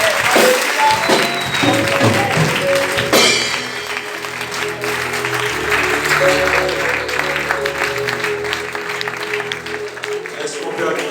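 A church congregation applauds steadily and loudly throughout, with music and voices mixed underneath the clapping.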